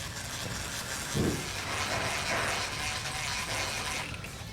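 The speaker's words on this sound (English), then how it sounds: "I'm going to install a bolt on each side." A ratchet clicks rapidly and continuously, close by, as bolts are started on a cast aluminum B&M differential cover on a Silverado or Sierra truck.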